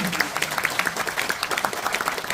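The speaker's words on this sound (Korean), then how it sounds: "다시 한 번 더 큰 박수 부탁드립니다" An audience claps at a national poetry recital for people with disabilities, with fairly distinct, rhythmic claps from a modest crowd sounding close and lively.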